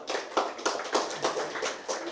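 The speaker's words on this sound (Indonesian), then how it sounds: "Tepuk tangan dong buat kita semua." Rhythmic hand clapping from an audience at a book discussion event in a mosque hall, a steady run of near claps at moderate loudness with no talk over it.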